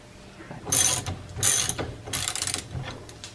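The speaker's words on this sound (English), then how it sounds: "1/2 inch drive ratchet with a 3/4 inch socket" A 1/2 inch drive ratchet with a 3/4 inch socket clicking in short bursts while lowering springs are installed on a car, three quick ratcheting runs close to the mic.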